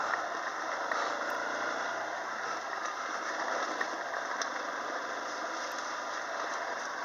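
A 4WD vehicle's engine runs steadily at an off-road 4WD park in Ako, a fairly faint continuous hum and rattle heard from a distance, without voices.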